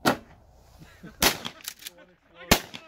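Shotgun blasts crack out three times at the shooting range, each a sharp, loud report with brief echo, while people talk quietly between shots.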